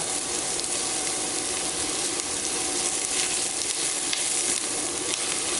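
Carrots for chicken and dumplings sizzle in a pot with a dense, steady, close-up hiss that stays even and uninterrupted throughout, with no voices.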